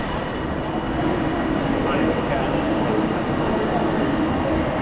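A freight train rolls through Preston station with a steady, loud low rumble of wheels and wagons that holds throughout, while voices murmur faintly beneath it.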